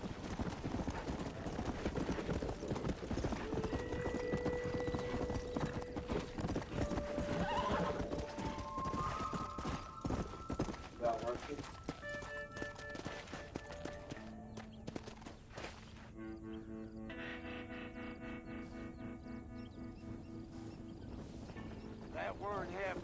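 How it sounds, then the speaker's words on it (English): Horse hooves clip-clop steadily through Red Dead Redemption gameplay, joined by a horse's whinny and layered over game music, close and loud with no speech. "Where you going with that horse?"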